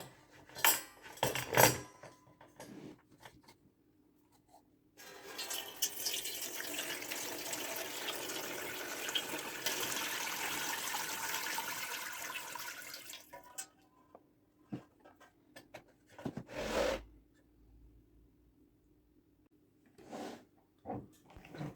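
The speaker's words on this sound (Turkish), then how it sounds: "İçindeki suyu boşaltıyoruz." Liquid pours and splashes as fermented gileboru fruit is strained out of a jug, a steady trickling flow lasting several seconds, with clanks and knocks of the container before and after, close and fairly quiet.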